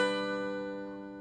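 A single strum of a major chord on a mountain dulcimer sounds clearly and alone, the bright strings ringing and gradually decaying.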